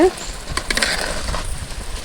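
Mushrooms sauté in a village-style gravy pan with a soft sizzle and a brief scraping stir partway through, close and moderately loud.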